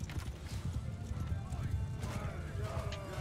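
Horse hooves clip-clopping in a medieval video game battle, with a busy clatter of hoofbeats mixed with clanks and a whinny. The sound is loud and continuous.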